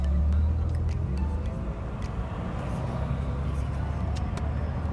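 Steady low rumble of a car being driven, a continuous engine and road drone holding level throughout, fairly loud and close, with no clear speech over it.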